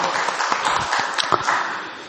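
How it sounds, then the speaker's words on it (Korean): A church congregation applauds during a Sunday service, a short burst of scattered clapping, fairly close and moderately loud, with a few sharper claps standing out. "영광의 박수를 주님께 돌리십시다."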